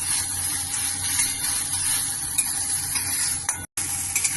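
A water lily stem bharta mixture sautéing in a pan gives a continuous close sizzling hiss with faint stirring scrapes and one brief break near the end.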